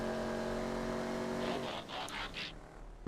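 Hot Knife muscle car driving in the GTA video game, a steady engine drone with harmonic tones that fades into fainter tire and motion noise near the end.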